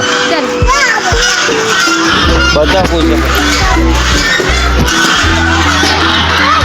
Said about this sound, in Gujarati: બતકો બતકનો ઝઘડો થઈ ગયો છે બહુ જોરદાર